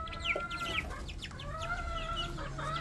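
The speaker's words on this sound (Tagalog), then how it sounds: "Yan na, sisiyo natin." Chickens and young chicks clucking and peeping close by on a poultry farm, overlapping calls running continuously over a low background hum.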